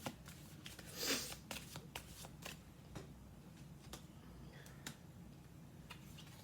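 Playing cards riffled and shuffled close by, a quick burst of fluttering snaps followed by scattered light taps and clicks.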